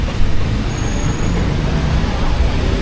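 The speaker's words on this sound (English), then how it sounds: "Got to be careful with these cars because they're coming right and left." Cars pass on a road at night, producing a close, steady roadway rumble with no breaks.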